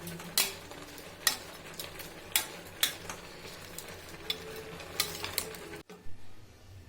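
Leafy greens stirred and tossed with salt in a pan, giving scraping spoon strokes and sharp metallic taps at irregular intervals over a faint sizzle. The sound stops abruptly near the end.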